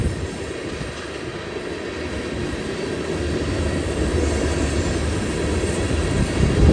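A BNSF freight train at Cajon Summit rumbles steadily, a loud, continuous low roar that swells gradually toward the end, with no one talking.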